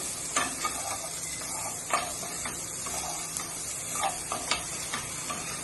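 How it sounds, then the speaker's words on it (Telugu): Capsicum and onion fry in a pan while a spatula stirs them. Intermittent taps and scrapes come every half second or so over a soft, steady sizzle, close and fairly quiet, with no voices. "చూడండి, ఇలా క్యాప్సికమ్, ఉల్లిపాయ ఫ్రై అవ్వాలన్నమాట"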